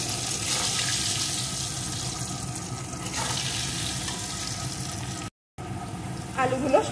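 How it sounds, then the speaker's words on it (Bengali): Potatoes frying in oil in a wok, a dense continuous sizzling hiss with a low background hum, briefly cut out near the end before resuming with a few light clinks. "এখন আলুগুলোকে আমি লাল লাল করে ভেজে নেব।"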